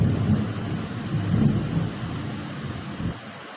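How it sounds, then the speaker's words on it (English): Thunder rolling during a thunderstorm, a loud low rumble swelling and fading twice over a continuous rain-like hiss, then quieting toward the end. "there was a thunder lightning"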